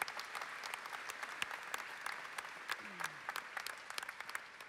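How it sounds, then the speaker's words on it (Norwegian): Audience applause at a Christian conference gathering, steady dense clapping from a crowd filling the whole stretch at moderate distance, with a few sharper claps standing out. "så gir vi dem en skikkelig applaus"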